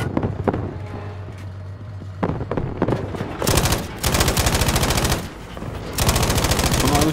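Heavy rapid-fire gunfire in Battlefield 5, sustained automatic bursts crackling loudly over a low engine drone, with short gaps between volleys.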